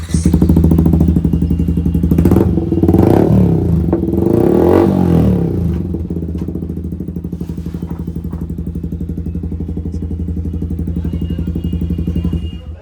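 A Yamaha MT-15 motorcycle fitted with a chrome SC Project full-system exhaust revs loudly with a few sharp blips early on, then settles into a rough, pulsing idle burble close by.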